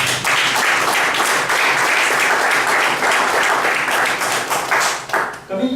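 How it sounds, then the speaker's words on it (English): An audience at an evaluation session gives a loud, sustained round of applause, dense clapping that tapers off as a voice starts in at the end. "let's give a big round of applause to Ramesh"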